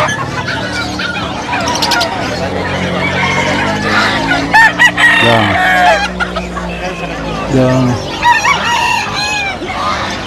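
Gamecocks at a crowded pet market crow loudly and repeatedly nearby, with long drawn-out calls overlapping one another over background voices and bustle.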